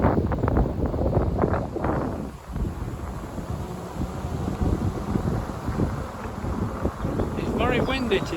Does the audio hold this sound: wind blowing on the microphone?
yes